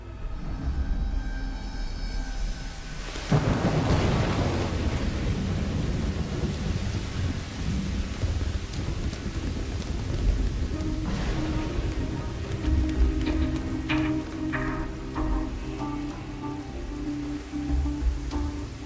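Steady heavy rain with rolling thunder that swells and crashes, then keeps rumbling under the downpour.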